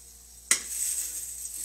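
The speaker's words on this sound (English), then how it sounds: "Because I need to fry these sausage." Sausages hitting a hot pan, which bursts into a loud sizzle after about half a second and keeps hissing steadily, close by with no talk.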